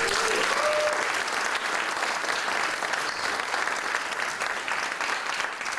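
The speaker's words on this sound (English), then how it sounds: "big round of applause" Steady, full audience applause for a singer at the Straz Performing Arts Center, dense clapping throughout, holding at an even level from start to finish before easing slightly at the end.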